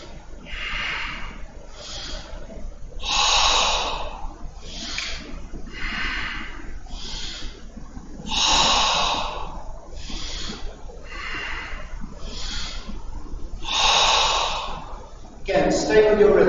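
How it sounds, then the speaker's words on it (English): Deep, slow breaths during a guided breathing exercise, several loud rushing inhales and exhales in an even rhythm, close to the microphone with no talking over them. "Hear that sound of the breath."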